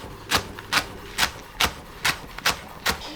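Kitchen knife chopping leeks on a board, eight even, crisp cutting thuds at a steady rhythm, close and clear with no talk.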